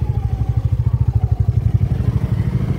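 Jawa 42 motorcycle with a broken clutch cable running close by, a loud, steady low engine thump with rapid pulsing beats and a slight clatter, no voices.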